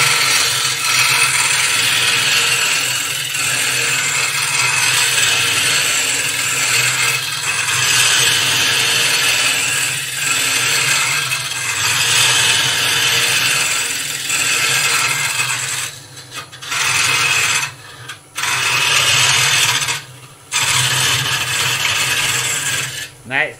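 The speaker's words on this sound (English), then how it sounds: "What I'm going to do is use the hook tool, the hooky tip one, because I want to get obviously a deep undercut in here." A hook-tipped tool cuts a deep undercut into wood spinning on a lathe, a loud steady scraping hiss over the motor hum, with a few brief pauses near the end as the cut lifts off.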